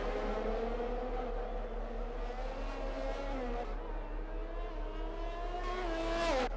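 McLaren race cars in an Xbox racing game at a Mexico round, running side by side with a steady, droning engine roar and a sharp rise in pitch near the end.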